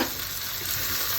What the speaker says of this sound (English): Stir fry.